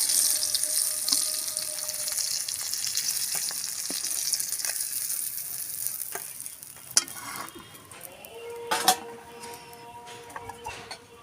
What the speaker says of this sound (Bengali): বাকি মাছগুলো আমি এইভাবেই ভেজে নেব।